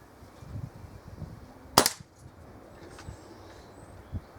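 A single sharp crack from a Kral NP02 air rifle fired at a target, close and brief, standing out against quiet outdoor background with faint distant sounds.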